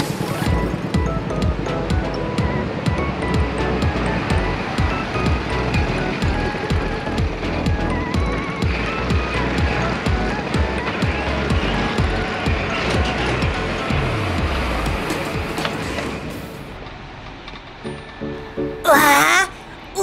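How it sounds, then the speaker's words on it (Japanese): A garbage truck loads and compacts burnable household waste, producing a loud, continuous grinding and churning roar that eases toward the end before a brief final burst of mechanical noise. "今投入しているのは可燃ゴミです。"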